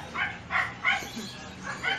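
A puppy in a pet shop in Abu Dhabi gives repeated short yips and barks mixed with whimpers, about five close bursts at a steady rhythm, with faint background voices between them.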